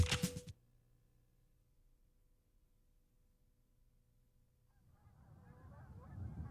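Geese honking as they fly overhead during a hunt in western Nebraska, a brief loud burst at the start followed by a quiet stretch, then a growing chorus of distant honks rising toward the end.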